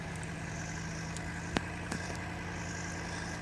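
BMW car engine idling in a video game, a faint steady low hum with a constant tonal drone and a couple of brief clicks in the middle.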